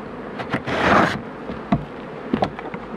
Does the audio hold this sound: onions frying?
no